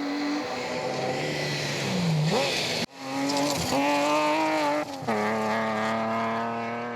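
A rally car, an H6 class machine on a South Canterbury gravel stage, drives hard with a loud sustained engine note that climbs through the gears, with gear-change dips and brief tyre noise, close and continuous.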